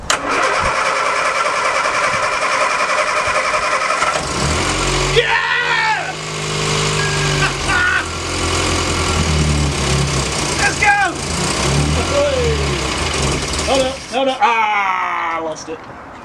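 Morris Minor engine, freshly reinstalled, cranking and catching with the choke out, then running and revving unevenly at a high idle, close and loud, with people talking over it.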